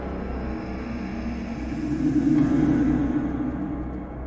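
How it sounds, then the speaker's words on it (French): A thunderstorm rumbles outside a house at night, a steady low roar that swells louder midway and then eases, with no voices over it. "Dehors, un orage redoubla d'intensité."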